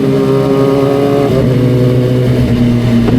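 Motorcycle engines drone loudly and close by on a mountain road in the Marilaque area, with a steady mid-pitched hum that shifts in pitch as the bikes pass.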